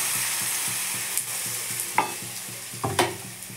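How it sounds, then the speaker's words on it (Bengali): Chicken batter poured onto a lightly oiled griddle sizzles steadily with a soft, even frying hiss, broken by a few sharp spatter pops and scraping stir sounds, close and alone with no talking. "চারিদিকে ঘুরিয়ে নেব তেলটা, দিয়ে দেবো চাটুর উপরে এইভাবে গোলা।"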